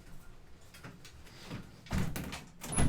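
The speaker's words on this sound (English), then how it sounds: "That was the wind blowing the door open." A door knocks and swings open in gusting wind, giving a few soft thuds and bumps followed by louder rattling knocks near the end.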